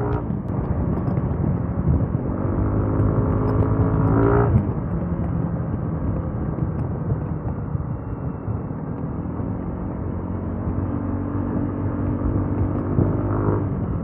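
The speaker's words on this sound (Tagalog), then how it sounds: "Ang solid yung tunog ng tambukotso nitong DRGBT na to." A SYM DRGBT motorcycle engine rumbles continuously with a deep, throaty exhaust note, revving briefly at moments, heard close up over wind and road noise.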